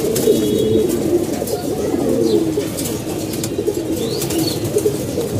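A good-bloodline racing pigeon coos in low, rolling calls close by, loud and continuous over a dense background of other birds.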